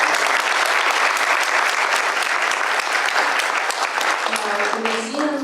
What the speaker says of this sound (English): So I'd just like a round of applause for Barbara.